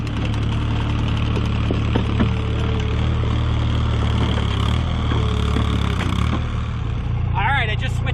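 A Kubota U25 compact excavator engine runs steadily at a constant drone while its bucket moves rocks, with occasional clunks and knocks of stone and metal and a brief voice near the end.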